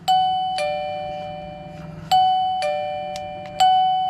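A wireless doorbell set to its third volume level rings out a clear two-tone ding-dong chime three times, each strike ringing and decaying before the next, loud and close with no one talking.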